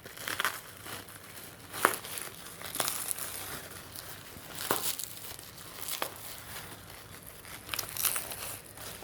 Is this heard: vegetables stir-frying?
no